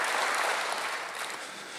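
A church congregation claps together during a Sunday worship service, a dense burst of applause that fills the room and then fades slightly.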